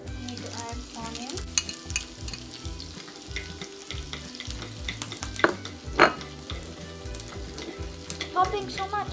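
Onion fries in oil in a miniature pan while an egg masala roast is being cooked, giving a steady close sizzle with scattered sharp pops and crackles and no speech.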